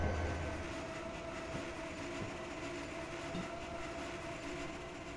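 A diesel locomotive in Train Simulator 2015 hauls a Bronx yard transfer run near Grand Central trackage, giving a faint, steady engine drone and rolling rumble with soft wheel clicks and no talking.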